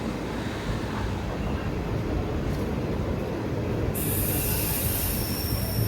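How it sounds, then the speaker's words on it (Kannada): A train pulls into Birur railway junction before dawn, steel wheels squealing loudly and continuously against the rails over a steady rumble, with a sharper high squeal rising toward the end. "ಬೀರೂರು ರೈಲ್ವೆ ಸ್ಟೇಷನಿಗೆ ಈಗ ಗಾಡಿ ಬಂದಿದೆ"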